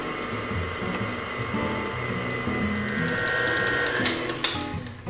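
An electric hand mixer running on low through dairy-free brownie batter, a steady close whirring drone with a slight shift in pitch near the end and a brief clatter, no talking.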